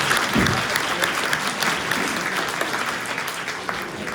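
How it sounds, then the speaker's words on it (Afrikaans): Steady applause from an audience at a URC Sarepta church choir Christmas in July concert, many hands clapping at once in a dense, continuous wash that holds evenly throughout without pause. "Ek sien hier aan die kant is al mense wat die klap."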